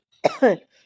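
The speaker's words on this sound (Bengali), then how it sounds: "টানে কাশি শুরু হচ্ছে" A single short, close, fairly loud cough caused by a cold, a rough double-pulsed burst lasting under half a second, followed by silence.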